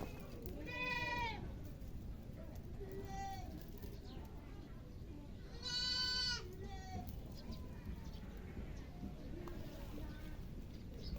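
Goats bleat during feeding, a few loud wavering cries rising over a steady background of rustling and noise, spaced a few seconds apart.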